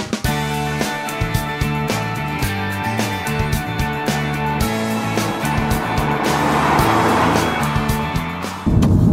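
A 2009 Chevy Cobalt SS launches hard and accelerates, its engine revving up to 5,000 RPM with a loud, rising drone and stepped pitch changes as it pulls away, close and alone.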